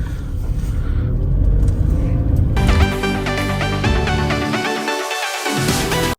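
A Tata Tiago iCNG hatchback running on CNG drives along, its steady engine hum and road rumble heard from inside the cabin, with a dense, harmonic chime-like tone joining partway through.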